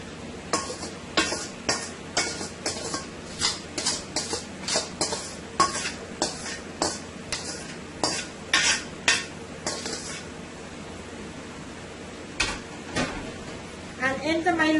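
Lo mein noodles are tossed and stirred in a pot for Guyanese-style mixed chow mein, with a quick run of metallic utensil clinks and scrapes against the pot over a low steady background, then quieter stirring.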